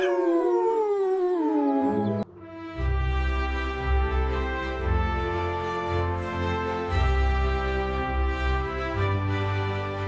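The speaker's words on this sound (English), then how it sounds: "lets out a joyful howl" An animated cartoon pup's drawn-out howl slides downward, then gives way to sustained, loud tonal sound with a deep low drone underneath.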